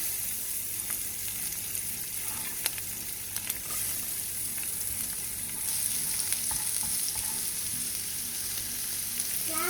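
Onions sauté steadily in a hot pan, a dense continuous sizzle and crackle filling the whole stretch with occasional louder pops, close and alone with no voices.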